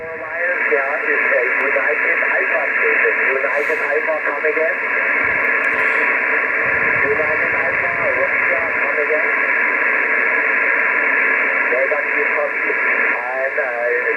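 Hissy, band-limited audio from a 1980s Kenwood TS-440S ham radio receiver, a muffled voice coming through static, steady and continuous throughout.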